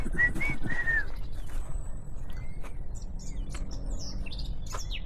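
A bird chirps outdoors near Douelle in the Lot, three clear whistled calls in quick succession, then sparse faint tweets over a steady background hum.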